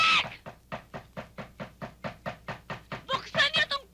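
A fist pounds on a door in fast, even, heavy blows, roughly four per second for several seconds, loud and close, and a shouting voice breaks in near the end.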